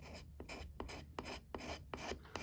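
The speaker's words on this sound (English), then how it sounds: "Always scrape down and usually with the grain." A hand scraper drawn down the wood of a slingshot frame, following the grain; six steady, evenly spaced rasping strokes, close and dry, with no voices.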